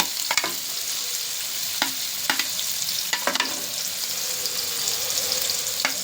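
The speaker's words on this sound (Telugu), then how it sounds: "హీట్ అయిన తర్వాత ఇప్పుడు ఉల్లిపాయలు వేగనిద్దాం" Onions frying in hot oil crackle with a loud, steady hiss, punctuated by several crisp spatula clacks and scrapes at irregular intervals, heard up close.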